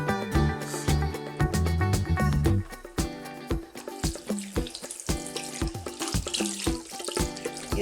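Tap water runs into a sink while soap is rinsed off hands, a steady splashing stream broken by clunks and splatters as the hands move under it.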